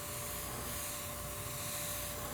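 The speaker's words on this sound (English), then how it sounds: "Now notice I'm spraying over here." An airbrush sprays brown paint in a steady, close, continuous hiss with a faint constant tone, unbroken for the whole stretch.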